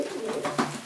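A male racing pigeon held in a basket gives a brief, close, throaty coo, soft and rolling, lasting under a second with no voices over it.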